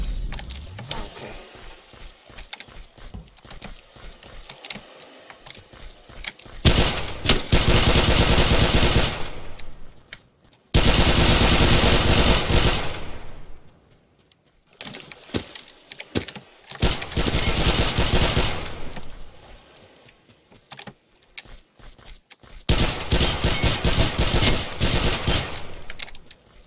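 Semi-automatic shotgun fire in The Misfits video game: several sustained loud bursts of rapid shots, each lasting a few seconds, separated by quieter gaps with faint game noise.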